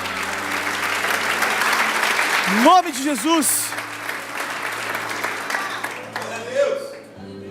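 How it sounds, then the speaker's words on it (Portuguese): Sustained congregation applause filling a church, steady crowd clapping heard throughout while a preacher speaks over it with a short sung or shouted phrase in the middle. "dá um aplauso ao Senhor"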